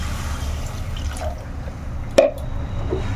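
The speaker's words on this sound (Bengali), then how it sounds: "এই পর্যায়ে এবারে কিন্তু আমি এর মধ্যে দিয়ে দেব জল" Water is poured into a pan of fried spice paste while making a tengra fish and lentil-dumpling (bori) curry. A short splash and sizzle burst rises mid-clip over a low, steady kitchen hum, with a few faint drips around it.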